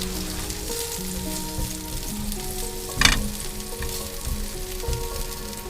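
Thin asparagus spears sizzle and fry steadily in a pan over a campsite stove, a continuous close crackle with a brief louder burst near the middle as they are stirred.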